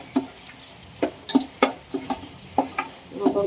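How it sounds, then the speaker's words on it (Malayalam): Jackfruit pieces stirred in a pan with a spoon, giving close, soft scraping clicks at irregular intervals over a faint background hiss; no one speaks. "നമുക്കിതൊക്കെ ഒന്ന് വളരെ നല്ലൊരു ഇളക്കി എടുക്കണമെന്നേ ഉള്ളൂ."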